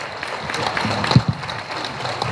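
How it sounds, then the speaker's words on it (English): Audience at a candidate forum applauding, a continuous spread of many hands clapping with a couple of sharper thumps near the middle, moderately loud. "Marty Mayfield and Billy D from KRTN, they deserve a good round of applause"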